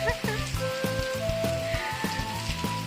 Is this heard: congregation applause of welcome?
no